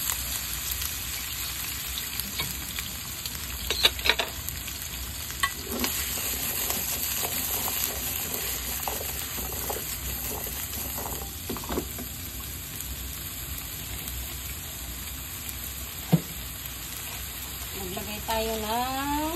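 Mushrooms, carrots, potatoes and onions sauté with garlic in a pan at home, giving a soft, steady sizzle broken by a few clinks and scrapes of stirring, with a faint voice in the background.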